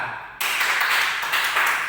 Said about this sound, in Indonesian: Tepuk tangan untuk Mas Alan.